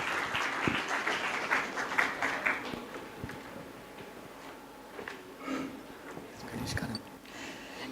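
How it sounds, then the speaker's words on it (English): Conference audience applause welcoming a speaker on stage at a business school event: a few seconds of clapping that fades into a room of murmuring and a voice speaking. "Can we have a big round of applause to welcome Ms."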